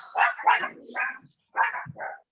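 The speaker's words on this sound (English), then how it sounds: "Sorry about my dog." A pet dog barks nearby in a quick run of about five sharp, loud barks with brief gaps, heard indoors and with no talking over it.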